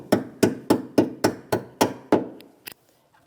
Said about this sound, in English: Get a rubber mallet or a little end of your screwdriver